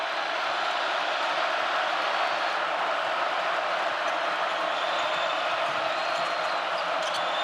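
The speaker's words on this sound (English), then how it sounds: "Crowd rallying again." Arena crowd noise at a Purdue vs Iowa college basketball game, a steady loud roar of cheering voices filling the whole stretch without letup.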